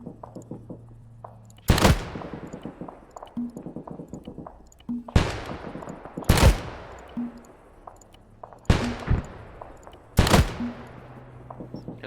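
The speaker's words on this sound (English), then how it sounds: "we still hear gunshots up there" Several sharp, loud gunshots from the video game Arma 3 ring out one at a time at irregular intervals, each with a decaying echo over a low ambient hum.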